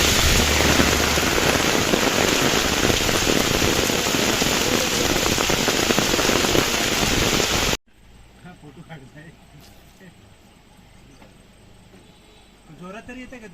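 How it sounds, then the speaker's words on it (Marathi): Heavy rain pours down in open farmland, a loud dense hiss of drops for several seconds that cuts off abruptly, followed by quieter surroundings where people talk. "पाऊस एकदम जोराचा आलेला आहे मित्रांनो"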